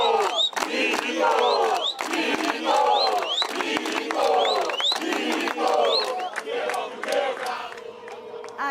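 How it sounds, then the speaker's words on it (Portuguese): Atlético Mineiro supporters protest outside the club headquarters, a large crowd loudly chanting a coach's name in a repeated rhythmic call, each shout rising and falling in steady succession. "a torcida grita Milito"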